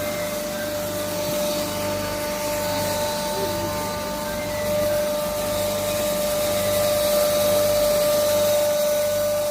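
A 3 hp pulverizer with six blades runs steadily and loudly, a continuous motor drone with a sharp high whine holding level throughout, close and without pause.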